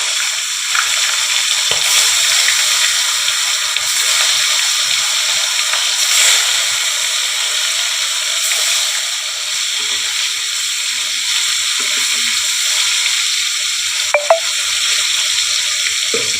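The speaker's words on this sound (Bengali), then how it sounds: "এই যে আমি তেলটা বসিয়ে দিয়েছি। বন্ধুরা, মাছগুলো ছেড়ে দিচ্ছি আমি।" Small fish frying in hot oil for a potato-stalk fish curry, a continuous hissing sizzle that holds steady throughout with a few faint pops and clicks near the end.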